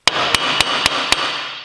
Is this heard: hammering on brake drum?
yes